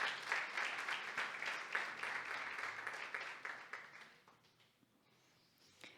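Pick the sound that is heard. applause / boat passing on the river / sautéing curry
applause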